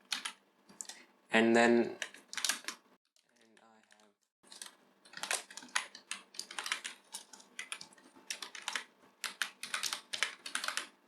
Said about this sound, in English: inside the curly brackets we can type the variable name